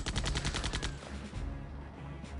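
A quick burst of gunfire from the 1999 game Septerra Core, several rapid close shots in the first second, then a low rumbling tail.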